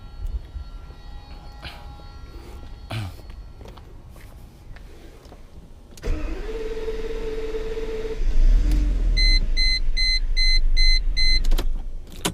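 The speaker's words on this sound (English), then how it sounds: "Now we're actually going to try to start this engine on 6 cylinders again." A 1997 Mercedes S600 with a failed DAS module cranks and then catches on six cylinders, a starter whir followed by a steady idling rumble that rises partway through, with beeping warning chimes from the car.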